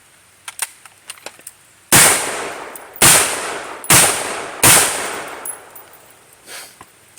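A suppressed 10.3-inch AR rifle fires brass .223 rounds: four sharp, loud cracks at irregular intervals of about a second, each with a brief tail, after some light clicks of handling.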